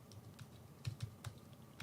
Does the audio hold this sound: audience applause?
no